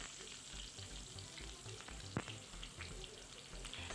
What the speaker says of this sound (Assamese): এটা মিডিয়াম সাইজৰ পিয়াজ মই কাটি ৰাখিছিলোঁ এই মিডিয়াম সাইজৰ পিয়াজটো ইয়াত মই দি দিম